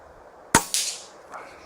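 A Weihrauch HW110 air rifle lets off a single sharp crack outdoors at night, followed by a faint thud of the pellet striking moments later.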